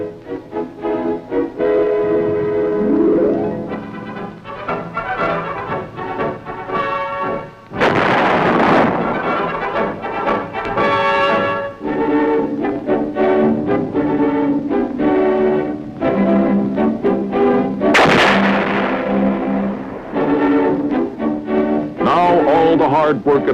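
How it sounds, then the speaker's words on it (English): 175mm big guns fire artillery shells at a proving ground, booming blasts heard over music and a narrator's voice that continue throughout. "when the big guns go into action, providing support for the men in the field"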